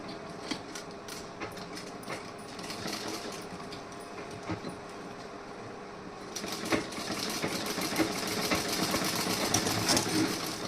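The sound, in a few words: sewing machine stitching a blouse with beads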